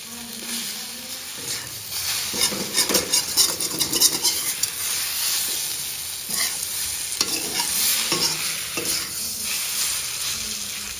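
Vegetable sabzi with spices frying in a pan while a spoon stirs it, giving a steady close sizzle with repeated scraping and clinks of the utensil against the pan, and no talking.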